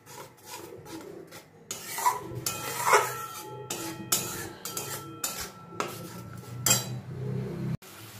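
A spoon or spatula scrapes and rasps against a pan as spice paste mixed with coconut milk powder is stirred and fried down for a rui fish curry with curry leaves, with repeated close scraping strokes and clinks, no talk.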